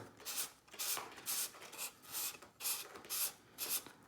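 A carbon fishing-rod quiver tip rubbed on folded sandpaper by hand, giving soft, faint rasping strokes in a steady back-and-forth rhythm, about eight passes, alone.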